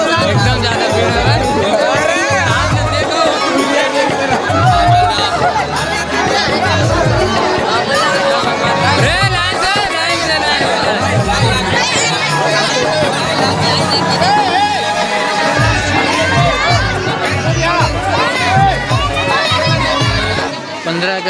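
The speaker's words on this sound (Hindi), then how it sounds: "एकदम ज्यादा भीड़ है।" A dense crowd at a busy event, with children present, produces loud, continuous overlapping chatter and shouts, close around the listener throughout, while a nearby voice talks over it.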